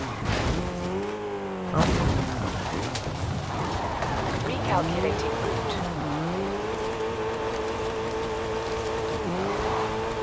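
A Mercedes-Benz 190E 2.5-16 Evolution II in Forza Horizon 5 revs and slides, its engine pitch rising and falling in sweeping surges alongside tire noise, while someone talks over it.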